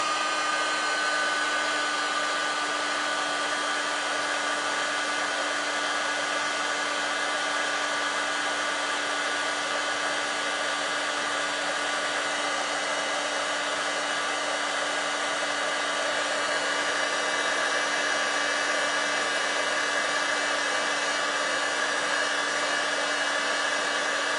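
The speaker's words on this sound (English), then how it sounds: "Now you're going to have to cover your ears while I heat this." Craft heat tool blowing continuously at close range, a loud steady whirring hiss with a constant motor hum and no talking.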